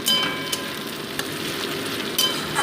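Chapila fish frying in a pan for a seasonal vegetable chachari, a steady close sizzle and crackle throughout with a few sharper spatter pops, no voices.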